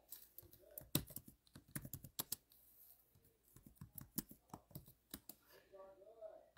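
Quiet, rapid clicking of computer keyboard keys in irregular bursts while designing in an online editor, close and soft, with brief pauses between runs of keystrokes.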